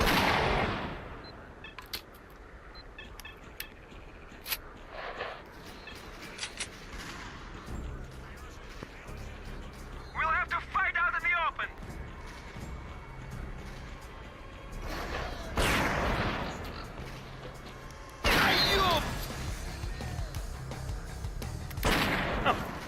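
Gunfire in the PS4-era shooter S.T.A.L.K.E.R.: Clear Sky: sharp single shots and bursts scattered irregularly over twenty-odd seconds, some loud and close, between quieter stretches, with someone talking intermittently.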